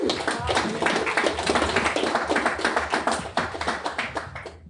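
A room full of people applauding, steady dense clapping that continues throughout, with voices mixed in.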